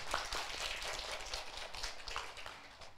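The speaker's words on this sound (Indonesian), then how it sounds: "Beri tepuk tangan yang meriah untuk Kirana" An audience claps for a child at a kindergarten talent show, fairly faint and slightly distant, with a steady patter of hands running for about three seconds.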